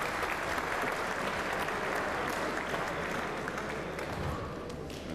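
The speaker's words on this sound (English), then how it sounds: "Generous applause" Sustained applause from a boxing crowd at an indoor fight night for the Massimiliano Ballisai vs Ravil Mukhamadiarov bout in 2011, steady dense clapping at moderate level that fades slightly toward the end.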